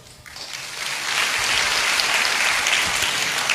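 Seated audience at a talk breaks into applause that starts thin, swells after a second into a full, dense round of clapping, then holds steady.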